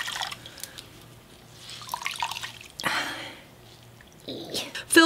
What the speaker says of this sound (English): And then you wanna squeeze them out really good.